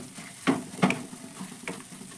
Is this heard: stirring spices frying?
yes